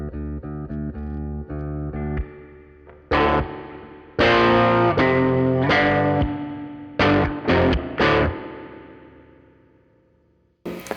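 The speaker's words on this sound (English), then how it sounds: "that's real tank reverb" Spring tank reverb in a Peavey Studio Pro 50 1x12 guitar amplifier, heard as loud distorted guitar chords and single struck notes that ring and decay with a metallic, splashy tail between hits, no voices.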